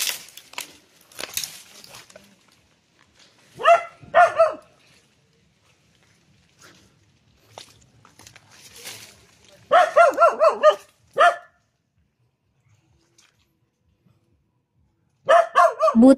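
Several dogs bark at a large lizard in short bursts, with clusters of sharp barks separated by quiet gaps, fairly close and loud.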